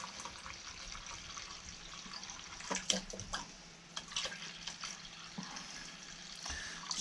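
Deionized water pours into a jug in a steady, moderately loud splashing stream, with a few sharper knocks and dips in flow partway through, close by and without talk.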